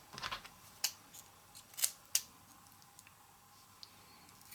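Scissors snip through lengths of yarn cut about 20 cm long for a knitted mask strap, a few sharp close snips spaced apart in a quiet room.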